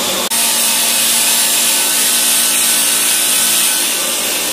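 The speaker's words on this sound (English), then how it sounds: "I am not endorsing cutting aluminum on your table saw." A table saw slices through aluminum, a loud continuous high-pitched shrieking whine close up, holding steady after a brief dip at the start, with no voices.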